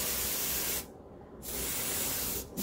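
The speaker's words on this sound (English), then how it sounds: "spray it really good on top, spray it at the bottom," Roses get sprayed with an aerosol can in two long hissing bursts and a short pause between them, close and steady, with no voices.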